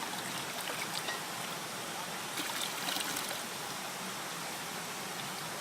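Water and sand swirling in a gold pan while panning fool's gold, a steady close wash of sloshing, hissing water with a few brief louder surges.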